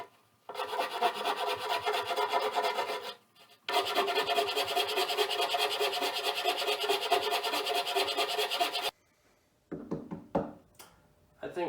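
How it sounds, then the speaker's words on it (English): A metal Viking shield worked with a hand file, producing long, continuous close-up rasping runs broken by a brief pause, followed by a few short scratchy strokes. "So I'll hit this up with a file and some sandpaper"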